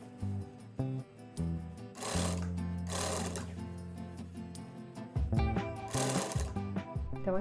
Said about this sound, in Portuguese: E aí eu vou costurando bem pertinho, até fazer toda a volta do tecido.